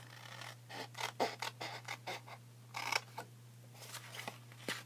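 Scissors snip through a paper card in a quick run of short, crisp cuts, close and fairly quiet over a steady low hum, with a brief louder cluster midway.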